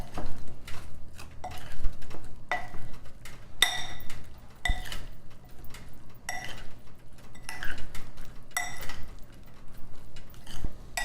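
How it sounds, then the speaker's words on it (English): Potato slices being tossed with oil and herbs in a bowl, giving irregular clinks, taps and scraping of utensil against dish, close and moderately loud without talk. "you just want to mix this potatoes with the oil and the herbs"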